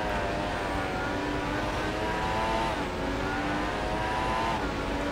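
Race car at full throttle in F1 2016 during the China Grand Prix, a continuous loud high-pitched engine wail holding steady with slight pitch climbs, alone without talk.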